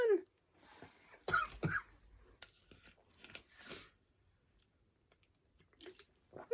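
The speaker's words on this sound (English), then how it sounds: "I almost had a coughing fit" Someone indoors muffles a few stifled coughs and throat-clearing sounds close by, between quiet rustling and small handling noises, with stretches of near silence.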